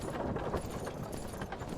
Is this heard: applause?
no